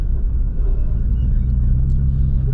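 A diesel pickup truck engine runs with a hesitant, held-back feel, producing a loud, steady low-frequency rumble that fills the whole stretch, with a few faint higher noises on top.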